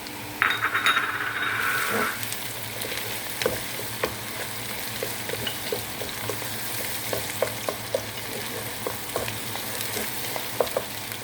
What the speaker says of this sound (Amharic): ሽንኩርቱን በዚህ መልኩ እየጠበስኩ ያዘጋጀሁትን ቅመም ጨምራለሁ። ደረቅ ቅመም አብሬ ጠብሳለሁ።